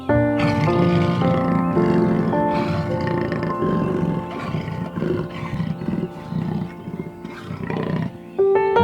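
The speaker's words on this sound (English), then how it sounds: "Jaguar." A wild jaguar roars loudly and up close in a long rough rumbling series, with deep grating breaths and snarls running almost continuously without pause.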